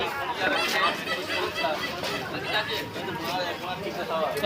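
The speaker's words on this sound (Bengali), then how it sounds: "ভিড় বাজারে" Busy Sunday market chatter, many overlapping voices talking at once in a crowded space, steady and fairly close.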